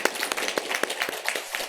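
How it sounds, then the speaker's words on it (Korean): A church congregation clapping to encourage newly trained members at a Sunday service, a loose patter of individual hand claps in a medium-sized room, moderately loud and uneven. "우리 박수로 격려하겠습니다"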